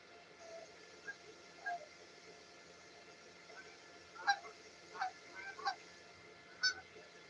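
Canada geese honk in scattered bursts at a distance, several calls spaced irregularly over a quiet, faint background.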